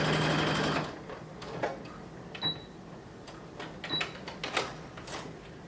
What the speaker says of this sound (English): you're going to stitch them together at the center back,